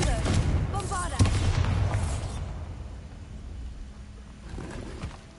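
A booming explosion spell going off in a magic-themed video game, a heavy, rumbling blast with crackling debris, heard beneath a speaking voice and then fading into a quieter tail.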